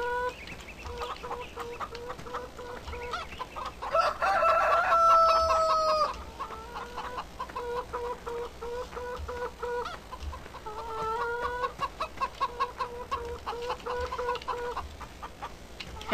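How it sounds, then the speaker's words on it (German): Chickens in Farming Simulator 2013 cluck in a busy, layered chorus with a rooster crowing loudly around the middle, the calls continuing steadily throughout with no talking. "mal kurz bei den Hühnern vorbeischauen"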